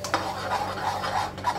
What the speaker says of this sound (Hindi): मुझे रनिंग हैंड से दही को फेंटते जाना है